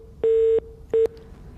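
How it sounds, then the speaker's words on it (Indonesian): Two steady telephone line tones on a dropped call, a longer beep then a shorter one, loud and clear over a faint hiss, with no talk. "nampaknya sambungan telepon dengan Pak Sutopo terputus"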